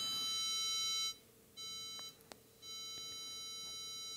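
A small speaker wired to a computer sounds a steady electronic beep tone that drops out briefly and returns, with a short click in between, alone in a quiet room.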